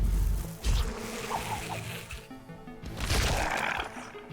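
Swarming bees buzz in the video game The Last Spell, a dense, wavering drone that swells in two loud bursts around a softer middle, with faint game effects underneath.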